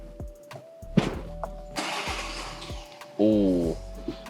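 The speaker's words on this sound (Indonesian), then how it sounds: "Kalau kita startup itu juga suaranya sih menurut gua sangat menyenangkan gitu ya" A Ford Ranger or Everest with a V6 engine is started: short clicks and a whirring crank, then the engine catches and settles into a steady idle, close and moderately loud, with a brief rising whine near the end.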